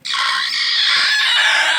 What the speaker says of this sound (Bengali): তো এখানে মুরগিতে কয়টা ডিম পারছে